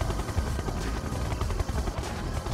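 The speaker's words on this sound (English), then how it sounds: "Siege chopper, checking in." A Siege Chopper helicopter in the video game Red Alert 2: Yuri's Revenge, a dense, continuous rotor and engine roar at steady loudness throughout, with no pause.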